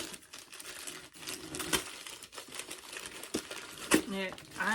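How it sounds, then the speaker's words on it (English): Packaging paper crumples and crinkles in bursts while being pulled from a box of trading card tins during an unboxing, close and moderately loud with brief pauses. "packaging paper"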